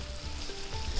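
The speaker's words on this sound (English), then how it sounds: "Add the leftover boiled rice, about 2 cups," Leftover boiled rice, about two cups, tipped into a hot pan for quick chicken pulao with hot garlic chutney, giving a short, steady sizzle with a low thump as it lands, no talk.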